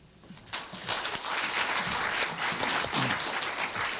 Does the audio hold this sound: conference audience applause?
yes